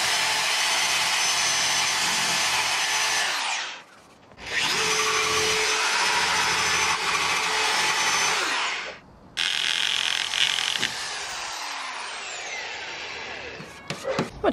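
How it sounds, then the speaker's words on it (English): Loud continuous whir of a power tool stripping surface rust from Datsun 280Z parts, running in three long bursts with brief pauses between them and no talk. "I'm just gonna get rid of the surface rust on these so that it doesn't spread"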